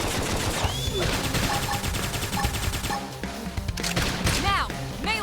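Rapid bursts of gunfire in a busy battle in Xenoblade Chronicles X Definitive Edition, overlapping crashes and whooshing effects, with a voice speaking over the action.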